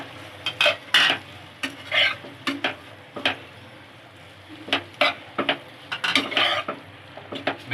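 Boiled pasta is stirred into masala in a pan, with a spoon scraping and clinking against the metal in irregular bursts over a faint sizzle, close and fairly quiet.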